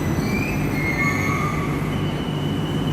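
An LRT train rolls into a station with loud, continuous rumbling and high metallic wheel squeals drawn out over the steady roar, close and dominant throughout.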